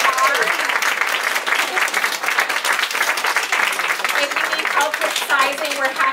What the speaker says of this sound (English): let's give our models a huge round of applause